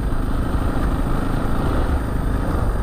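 Motorcycle engine running steadily on a Sunday ride to a family barbecue, a loud continuous low drone with wind rush, no gaps and no voices.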